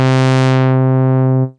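A synth tone through the Reason Europa low-pass ladder filter holds one steady, harmonically rich note as the filter sweeps down and dulls the upper overtones, then fades out near the end.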